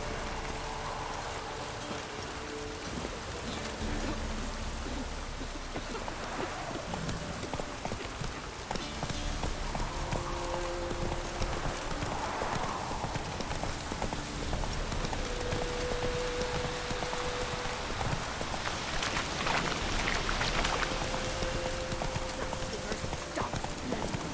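Hooves of a galloping horse in The Witcher 3, a steady rapid clip-clop close by for the whole stretch, with rain-like patter and game voices talking over it.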